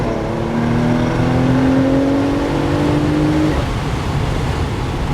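The engine of a 2020 Porsche Macan Turbo accelerating hard, its loud rising drone climbing steadily in pitch before a gear change drops it again.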